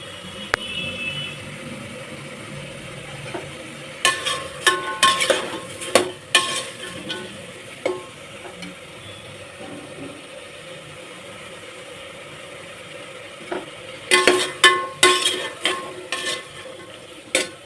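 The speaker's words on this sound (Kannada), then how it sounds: "ಸ್ವಲ್ಪ ಎಣ್ಣೆಯಲ್ಲಿ ತರಕಾರಿ ಎಲ್ಲ ಸ್ವಲ್ಪ ಒಂದು ಮೀಡಿಯಮಲ್ಲಿ ಬೇಯಬೇಕು" Vegetables fry in a little oil over medium heat for green pulao, a steady low sizzle broken by bursts of spoon-scraping stirring clatter near 4–7 and 14–17 seconds, with no talking.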